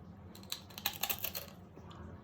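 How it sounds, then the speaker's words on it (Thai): Someone bites into crispy Chinese pork belly, giving a quiet, close series of dry, brittle crunches that rise and fade over a couple of seconds with no talking. "กรอบมันคือสามชั้นกรอบ กรอบมาก"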